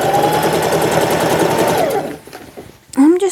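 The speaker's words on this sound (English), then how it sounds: "and then I'm going to sew." A sewing machine stitches denim with a loud, fast, close whirr lasting about two seconds, then stops, followed by a short burst of a person speaking.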